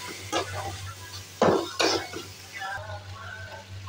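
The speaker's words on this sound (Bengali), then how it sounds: "এতে দিয়েছি কাঁচা লঙ্কা, রসুন, এটা আমরা ভেজে নিচ্ছি।" Garlic and green chili fry with onion in a pan, a few sharp scraping stirs over a low, steady sizzle, close and without talk.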